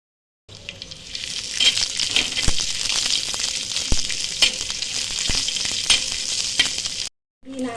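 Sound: onion roasting in oil in a pan for chicken rassa

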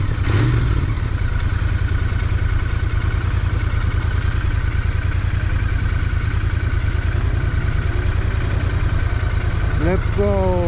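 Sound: Royal Enfield Interceptor 650 motorcycle engine idling

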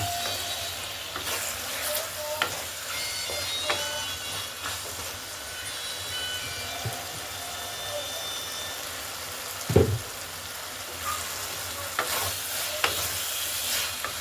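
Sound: frying masala with green chillies for tengra fish curry

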